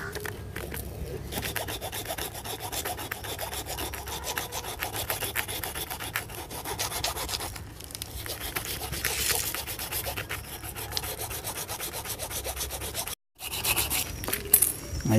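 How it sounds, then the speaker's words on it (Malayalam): A knife or wax blade works through a frozen block of artemia, giving a steady rasping, scraping rub that runs close and continuous for about fifteen seconds, with a brief pause near the end. "ഒരു കത്തിയോ വാക്സ് ബ്ലേഡ് എന്തെങ്കിലും വെച്ചിട്ട് ഇതിന് ഒരു പകുതി കട്ട് ചെയ്തെടുക്കണം"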